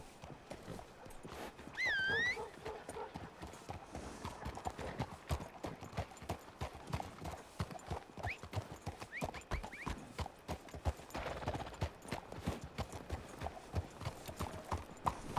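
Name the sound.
horse hooves clip-clopping in a video game (Red Dead roleplay)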